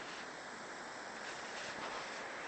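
Forest waterfall at Cascada del León in the Andes near El Bolsón, a steady broadband rush of falling water that holds unbroken and fairly close throughout, with no voices.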